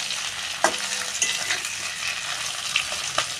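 A rohu fish head fries in oil, crackling steadily while a few sharp clicks of a stirring utensil strike the pan.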